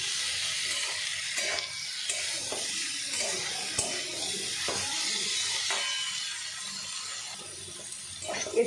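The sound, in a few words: jackfruit frying in oil in a pan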